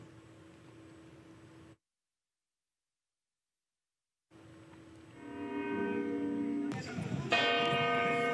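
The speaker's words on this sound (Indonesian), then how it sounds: "Di Madrid, Spanyol, lonceng Gereja Katedral Almudena" After a brief silence, the bells of Almudena Cathedral in Madrid ring out, layered tolls building in loudness with a sustained metallic hum beneath, growing fuller near the end.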